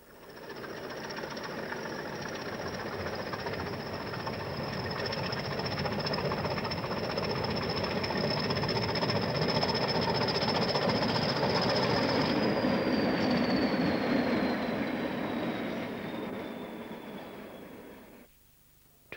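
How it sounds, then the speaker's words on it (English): A pair of Class 20 diesel locomotives haul a mixed freight train past close by, with a steady droning engine roar, a high tonal whine and rattling wagons building and then fading away near the end. "a pair of Class 20 locomotives head a mixed freight, this time round the west curve"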